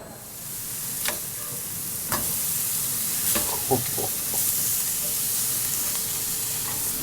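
Mostly beef mince burgers with a little lamb fry in a pan, giving a steady, fairly loud sizzle with a few sharp pops and crackles and no talking.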